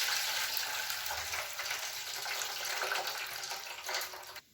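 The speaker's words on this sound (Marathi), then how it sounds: "असं तुम्ही बी 2-3 पाण्यानं तांदूळ धुवून घ्या" Rice is washed by hand in water, making a steady splashing and sloshing wash that runs continuously and fairly softly, with no voices.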